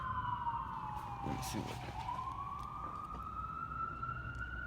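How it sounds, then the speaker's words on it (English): An ambulance siren passing by, its wail sliding down in pitch then rising again as it moves, fairly distant and steady; a person speaks briefly over it. "Oh, it's an ambulance."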